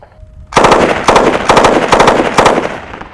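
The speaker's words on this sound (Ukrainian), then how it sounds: "Даний кулемет виготовляється для армії США, виготовлений е, малий піхотний калібр" Rapid bursts from a US Army-issue machine gun in NATO small infantry calibre, loud and close: four or five sustained strings of fire separated by brief pauses, following a moment of near quiet.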